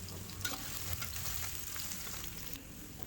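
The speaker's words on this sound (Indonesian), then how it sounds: "kita tumis bawangnya sampai harum" Thinly sliced shallots sizzle in about 100 ml of hot oil, a steady close crackling fry with faint stirring scrapes throughout.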